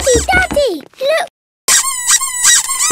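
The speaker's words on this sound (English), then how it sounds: "Look for something that makes a squeaky noise. Squeaky. The rubber duck." A rubber duck squeaks in a cartoon, sharp high squeals in quick bursts mixed with cartoon character voices, with a short silent gap before a louder run of squeaks.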